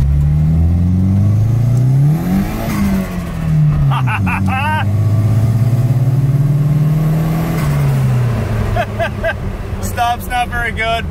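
A BMW E30 fitted with a mini brake booster accelerates hard, its engine note rising and falling through gears as a loud, continuous drone close to the microphone, with people talking over it.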